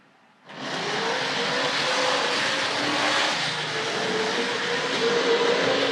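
An early-1970s Hornby model diesel rail car, a power car coupled to a dummy car, runs through a model station, its small motor starting abruptly and then whirring steadily and fairly loud until the end.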